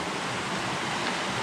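Steady broadband rush of a river flowing at a trail water crossing near Mad River Falls, continuous and fairly loud with no voices, the water noise filling the whole moment evenly.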